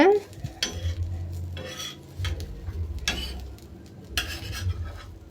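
Scrambled egg gets turned over with a spatula on an oiled flat griddle, producing several distinct scraping and clinking strokes over a soft, low sizzle, close and fairly loud.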